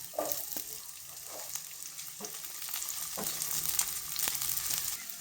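Garlic and onion fry in hot oil, a quiet continuous sizzle with a few light spoon taps and stirring scrapes, close and steady, without speech.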